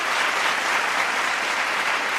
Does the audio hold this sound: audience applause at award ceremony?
yes